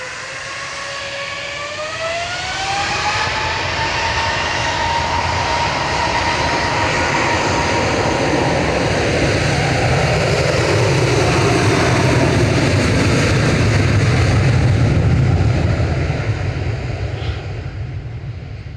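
A loud jet airliner roars past at Manchester Airport, measured near 96 decibels, its engine whine sweeping downward in pitch as it nears and holds a sustained, broad rumble for nearly twenty seconds, with no talk over it.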